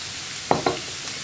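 Onions for a kappa cutlet frying in a pan under a constant soft sizzle, broken by two quick stirring scrapes close together partway through.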